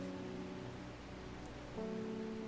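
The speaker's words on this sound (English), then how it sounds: "So, it's raining." Steady rain ambience from the video game Strange Horticulture, a soft continuous wash of rainfall at low level with faint tonal game music beneath it and no talk.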